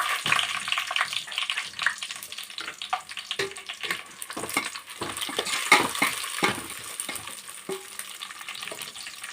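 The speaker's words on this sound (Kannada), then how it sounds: "ಇವಾಗ ಫ್ರೈ ಆಗಲಿ" Onions and green chillies sizzle steadily in a pan for chicken dum biryani, with fenugreek added, accompanied by intermittent stirring scrapes and clinks close by and no talking.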